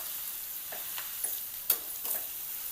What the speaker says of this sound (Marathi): भाजीला परतून घ्यायचं